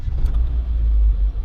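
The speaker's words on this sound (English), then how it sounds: "If I switch the car on, which is done by pressing the start button here" A 2017 Renault Clio with a 1.2 16V petrol engine starts up and settles into a low, steady idle rumble, heard close and moderately loud with no voices.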